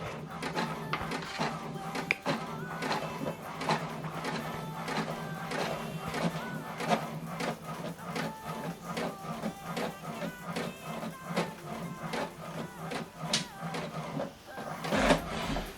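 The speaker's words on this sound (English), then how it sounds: "Okay, the second one is printing." An HP printer printing a document, with a fast run of mechanical clicks and feed whirs repeating steadily for about fifteen seconds, close and fairly loud, ending in a louder clunk.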